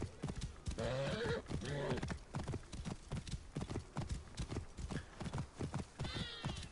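A horse runs in the video game Assassin's Creed Origins, fast rhythmic clip-clopping hooves carrying through, with snorting and whinnying sounds mixed in, close and fairly loud.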